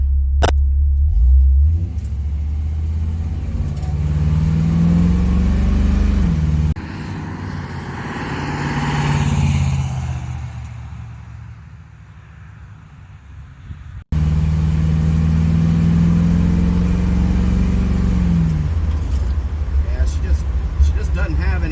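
A 1978 Camaro RS pulls away from a stop sign, its V8 rumbling deep and loud as it winds up in two long rising surges, with a brief quieter lull between them as it shifts.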